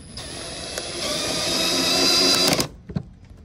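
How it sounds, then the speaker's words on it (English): Power drill driving a rivet nut insert into a Harley-Davidson box: a steady close whine that rises slightly in pitch and load for about two and a half seconds, then stops, followed by a few light clicks and knocks. "You're gonna drill out your hole and then you take the bit and the insert, the nut cert, and you just screw it in."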